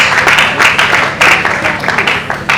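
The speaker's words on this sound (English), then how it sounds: "A round of applause for him, please." An audience at a panel discussion gives a short, fairly loud round of applause for a panelist, with uneven bursts of clapping rising and falling over a couple of seconds.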